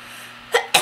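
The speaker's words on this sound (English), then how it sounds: "hold on, I have to sneeze" A sneeze comes as two quick, breathy bursts, close and fairly loud, breaking a stretch of quiet room tone.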